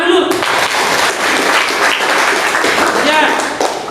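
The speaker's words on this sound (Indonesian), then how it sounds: "Tepuk tangan dulu." Classroom applause from a group of students, dense steady clapping sustained throughout at close range, with some voices mixed in.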